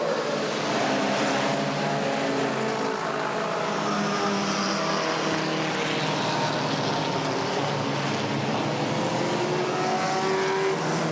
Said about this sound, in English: And now Armstrong and Dean down the back straightaway.